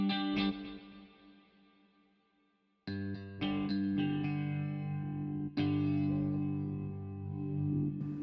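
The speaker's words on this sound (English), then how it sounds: "we can have like a space reverb." Electric guitar chords played through a space reverb effect plugin, struck twice and again with bright, lingering washes of tone that decay slowly.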